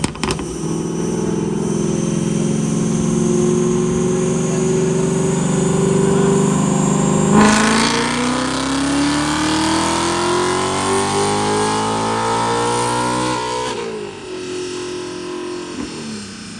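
A muscle car making about 696 horsepower runs a dyno pull. The engine drones loud and steady, shifts up with a sudden jump, then winds out in a long climbing rev before it drops off near the end, with no talk.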